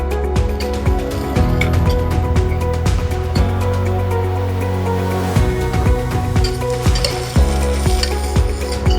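Sprouted horse gram sizzles steadily in a hot pan for a huladi pulav, with repeated stirring scrapes and clinks over the constant close frying hiss; no voices.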